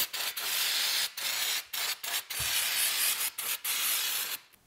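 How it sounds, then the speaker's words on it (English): A microfiber towel wiping an automatic transmission pan clean before a new gasket goes on, heard as close, steady broadband rubbing strokes in repeated passes with brief pauses between them. "for the final clean, I'm going to use a microfiber towel just to make sure that I don't leave any fibers in the transmission"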